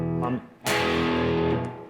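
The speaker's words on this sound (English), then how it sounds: "I've got my guitar on the bridge pickup, which really lends itself to that sound. Of course, a little distortion." A distorted electric guitar on the bridge pickup strikes a hard power chord that rings out and sustains, cut briefly by a short pause before the chord is hit again, loud and alone.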